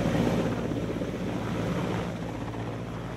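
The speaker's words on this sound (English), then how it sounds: "The roar of the helicopters over the Gochar airbase made its own statement the morning after" Helicopters over the Gochar airbase give a continuous, loud, rumbling roar that holds steady throughout with heavy wind-like noise.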